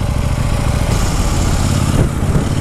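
A KTM 790 Duke motorcycle engine runs close by with a deep, rumbling tone that holds steady and then swells briefly as the throttle is blipped.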